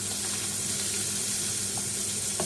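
Milkfish (bangus) frying in a pan, a steady hissing sizzle close by, continuous and even with a faint low hum underneath.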